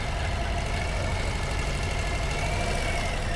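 A motorcycle engine idles steadily with a light mechanical ticking, a constant close, loud running tone with no speech over it.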